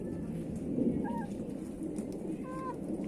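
Sussex hen clucking softly in a small pen beside a turkey, a few faint, brief calls over a low, steady background hum.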